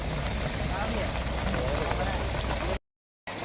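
Heavy rain pours down outdoors during a fishing and foraging trip in the wild, a dense, steady roaring hiss that fills everything before cutting off abruptly.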